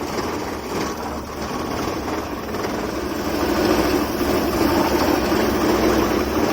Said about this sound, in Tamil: பயங்கரமான இன்ஜின் வைப்ரேஷன் இருக்குது.